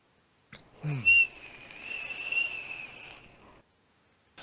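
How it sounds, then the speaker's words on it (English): A thin, high-pitched whistle from a Goon vape atomizer holds a steady tone for a few seconds after a brief low rumble, fairly quiet and close. "I hear my goon is whistling here."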